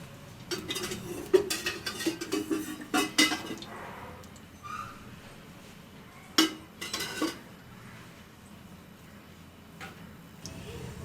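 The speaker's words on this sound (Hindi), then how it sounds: "ये 2 अदद अंडे हमने फेंट लिए हैं छोटे बर्तन में" Two eggs are whisked in a small bowl for potato-egg tikki, giving bursts of rapid metallic clinking against the bowl. There are two busy runs of clinking separated by quieter pauses, close and moderately loud.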